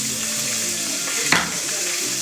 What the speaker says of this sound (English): As you can see, my liver is cooking. Try to ignore the loud sounds of it.